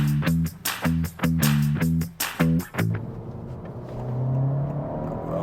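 A 2023 Honda Civic Si with a six-speed manual revving hard under acceleration, loud rising engine tone broken by several quick gaps as it climbs, then settling into a steadier, lower drone with no one talking.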